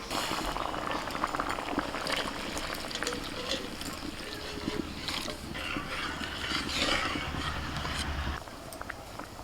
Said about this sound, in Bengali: ডালটা ফুটছে,